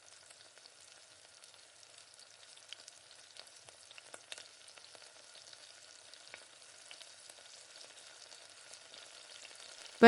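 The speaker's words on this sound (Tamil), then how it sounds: "இந்த மாதிரி எண்ணெய் ஊற்றி இந்த மீனையும் நல்லா வறுத்து எடுத்துக்கலாம்" Fish frying in oil in a pan, a soft, crackling sizzle with scattered pops running steadily throughout, faint and close, no talking.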